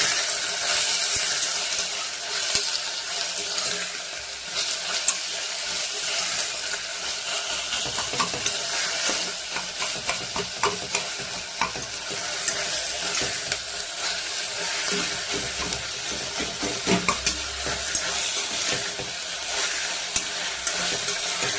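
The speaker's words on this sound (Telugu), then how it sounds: "ఇప్పుడైతే ఉల్లిపాయలు అయితే ఫ్రై చేసుకుందాం" Onions frying in oil in a pan for a potato curry, a steady, close sizzle and crackle with occasional stirring scrapes running throughout, no talking.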